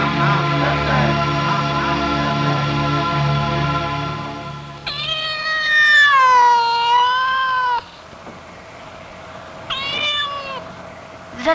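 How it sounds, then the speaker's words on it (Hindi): A black cat crossing the road lets out loud, drawn-out meows up close, a long wavering cry followed by a shorter one, after a stretch of other mixed sound. "काली बिल्ली रास्ता काट गई"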